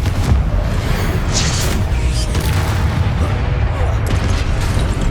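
The Confringo fire spell in the video game Hogwarts Legacy, a dense, loud, booming blast with crackling explosive rumble filling the whole clip amid combat noise, and a shouted voice mixed in.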